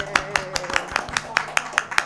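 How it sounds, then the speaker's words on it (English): A small group clapping for a colleague on Administrative Professionals Day, a sparse, evenly spaced run of individual claps close by, with a voice speaking alongside. "You wanted to know why we're clapping for you."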